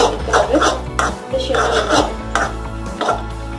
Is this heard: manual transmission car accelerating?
no